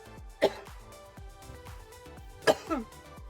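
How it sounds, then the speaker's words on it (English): Two separate coughs, a couple of seconds apart, come from a person with a persistent cough in a quiet kitchen, fairly soft and close, with faint clicks in between. "I am coughing a lot right now."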